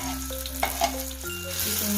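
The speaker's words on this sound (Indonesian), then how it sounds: "Kita tumis cabe, kriting, dan bawang putih yang sudah diulek ya." Curly chili and ground garlic sautéing in a pan, a steady close sizzle with faint stirring scrapes and a low hum running underneath, no voices.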